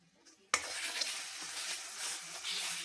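Masala spices hitting a hot pan to fry, bursting into a sudden loud sizzle that keeps crackling steadily and close up after a brief quiet start.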